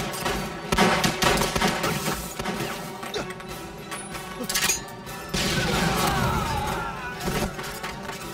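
Gunfire erupts in a kung fu action film, a dense fusillade of sharp cracks and bursts mixed with crashing impacts and mechanical clatter, loud and chaotic throughout.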